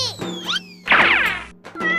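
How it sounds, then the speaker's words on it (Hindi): A cat in a Hindi comedy sketch gives short meows followed by a loud crashing thump as it falls, then another brief meow, all close and loud. "देख मेरी बिल्ली, चिंकी गिर गई"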